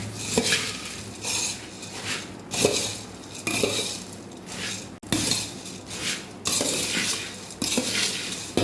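A spoon scrapes and clinks repeatedly against a pan while garlic puffed rice (Kathiyavadi lasaniya mamra) is stirred and tossed, with steady rhythmic metallic strokes at close range and no talk.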